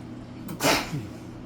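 A single short sneeze sounds at close range in a home kitchen and stands out against quiet room noise.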